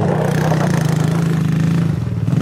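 A quad bike engine revs steadily while climbing a hill, a loud, close, continuous droning rumble with a rapid pulsing throb and no voices.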